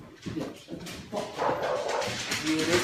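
Several dogs bark and whine in a restless, overlapping stream, moderately loud and close, with high-pitched whimpers mixed among the yips.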